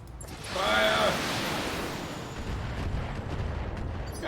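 Mech weapons volley in the BattleTech video game: a heavy, booming blast swells near the start, then a long rumbling roar that decays into sustained noise, with no talk.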